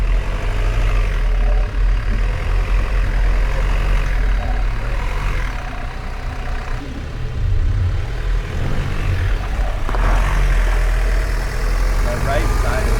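A Sprinter van engine rumbles steadily at close range, with a low drone and some louder surges, as the van works through an off-road clearance maneuver, with voices talking over it.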